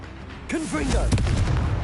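A Confringo blasting spell explodes in Hogwarts Legacy combat, a single booming burst with a sharp onset, arriving just after a voice cries out and followed by a rumbling tail.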